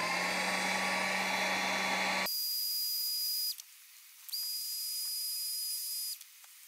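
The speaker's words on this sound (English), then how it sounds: "Now we need to heat the actual rod holders up and put some flare on them." A heat gun roars loudly, then switches to a high whistling hiss that cuts out briefly and resumes while heating plastic kayak rod holders to flare them.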